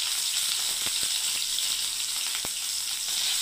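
Chopped pointed gourd frying with turmeric in a pan gives a constant, fairly quiet close-up sizzle, marked by a few sharp clicks of the spatula.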